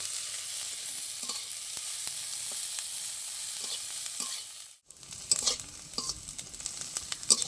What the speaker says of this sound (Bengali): এগুলো সব আমি একবার ভেজে নেব